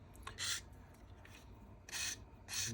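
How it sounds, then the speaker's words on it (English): Rasping strokes of a 600 grit sanding stick on a Supermarine Spitfire Mk1a scale model part, a few short, close scratchy bursts separated by quiet pauses. "This is 600 grit, by the way, this particular stick."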